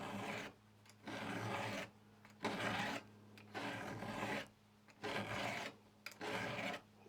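Hand file rasping a chainsaw tooth: six rhythmic, close, grinding strokes, each about a second long, separated by short pauses.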